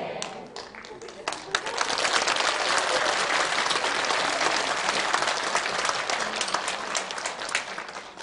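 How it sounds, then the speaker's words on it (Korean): An audience at a Buddhist dharma talk breaks into applause that swells quickly and holds as a dense, steady crowd clapping, with a few sharper individual claps at the start. "박수를 친다는 건 굉장히 중요합니다."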